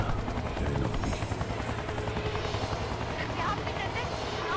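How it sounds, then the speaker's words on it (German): Helicopter in the video game XIII, its thudding rotor beat loud and steady throughout, close and continuous. "Der Helikopter. Ich erinnere mich."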